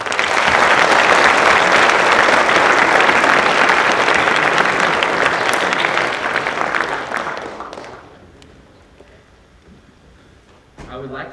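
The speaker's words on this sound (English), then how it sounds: "Could we give them a round of applause?" An audience at a 2022 MLK Day school assembly bursts into loud, sustained applause that thins out and fades after about eight seconds, leaving near quiet and a brief final stir.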